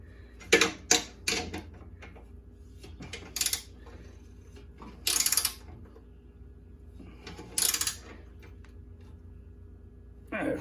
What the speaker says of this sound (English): Either get a short or a 5/8 ratchet